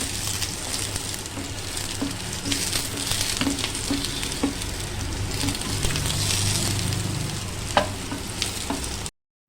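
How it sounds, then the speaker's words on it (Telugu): Moringa drumstick pods frying in oil in a pan for a drumstick curry, a steady loud sizzle and crackle with occasional clinks of a utensil against the pan, no talking. "మునక్కాయలు వేపుకుంటున్నా. ఇలా ఫ్రై చేయాలి."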